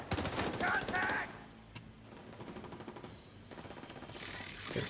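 Video game gunfire rattles in quick bursts, a loud flurry at the start followed by quieter repeated shots and clatter, with a background voice talking low in the mix.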